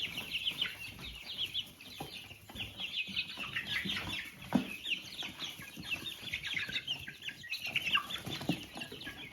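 A crowd of chicks in a brooder, Jersey Giants among them, keeps up a steady high cheeping chorus with bright individual peeps rising over the mass and occasional soft thumps nearby.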